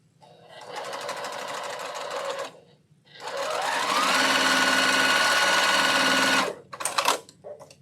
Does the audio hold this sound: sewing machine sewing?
yes